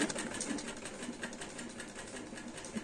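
Sewing machine running a shirt seam with a rapid, even stitching rattle, fairly quiet and continuous, with no talk.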